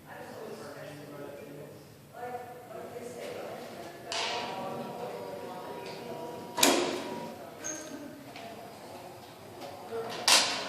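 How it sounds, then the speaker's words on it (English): A heavy door at a juvenile justice center detention room, fitted with electromagnetic locks, clicks and clunks open with several sharp metallic latch and handle sounds spread over a few seconds, heard under ongoing talk. "I'll pop the door open for you"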